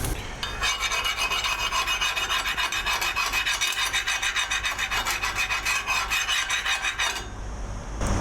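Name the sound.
scraping flux core weld spatter off with thin metal piece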